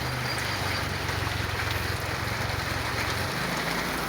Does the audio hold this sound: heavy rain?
yes